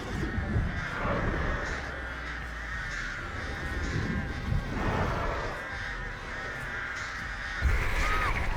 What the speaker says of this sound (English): I love the sound that the crows make on her